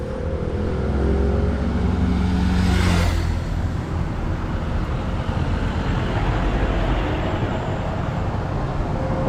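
A city bus drives past on a street in Kuching, Sarawak, its engine swelling loudly nearby for a few seconds and then settling into steady traffic rumble with no talking.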